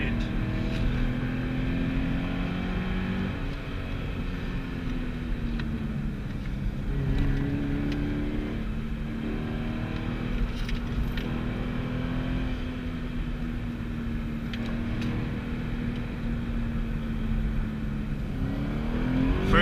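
E85-tuned Scion FR-S accelerating along a canyon road, steady engine drone rising and falling through the revs, heard from inside the car at moderate level without talk.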